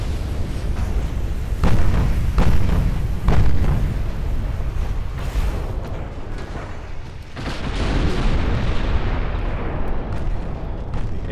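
Naval artillery from a 1920 German fleet in the Ultimate Admiral game booms in heavy, rumbling blasts that roll on after each shot, loud and layered without clear talk.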